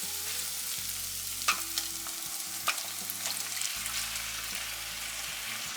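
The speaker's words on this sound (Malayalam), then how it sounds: "ഇനി ഇതിലേക്ക് നമുക്ക് വേവിച്ച് വെച്ച മട്ടൺ ഇട്ട് കൊടുക്കാം" Cooked mutton being stirred into softened, sautéed onions in a pan for a mutton roast, a steady oily sizzle with scraping spoon strokes and a few sharper clinks, moderately close with no talking.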